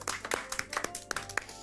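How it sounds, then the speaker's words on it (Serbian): Scattered hand clapping from a small studio audience on a Serbian reality show, a quick burst of uneven claps lasting under two seconds. "Aplauz za njih dvojicu."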